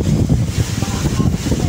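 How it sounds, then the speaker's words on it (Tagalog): Strong typhoon wind sweeping across Manila Bay, a dense, steady low roar that gusts and buffets the microphone, with rough water and waves blending into the continuous rush. "talagang sobrang lakas po ng hangin mga kababayan"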